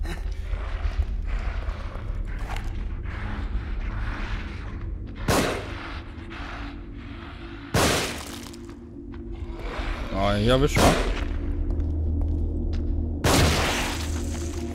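Several loud, sharp gunshot blasts spaced seconds apart in The Evil Within, over a steady game background hum, with someone talking briefly in German.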